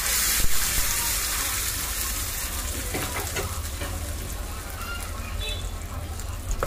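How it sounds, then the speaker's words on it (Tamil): Hot tempering with asafoetida and curry leaves poured into peanut chutney, giving a steady broadband sizzle throughout with a few sharper crackles and pops. "இப்போ நாம இத தாளிப் எடுத்து சட்னில ஊத்திக்கலாம்"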